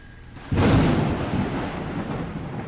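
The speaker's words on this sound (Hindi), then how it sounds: "एक तूफानी रात में जब बारिश हो रही थी, बिजली कड़क रही थी," A sudden crack of thunder bursts in and rolls on into a long rumbling wash, with heavy rain hissing steadily beneath it.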